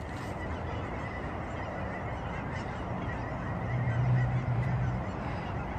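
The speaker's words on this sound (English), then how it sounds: "there is a massive amount of geese right there" A large flock of geese honking outdoors, a dense continuous chorus of overlapping calls at a moderate distance, swelling briefly louder near the end.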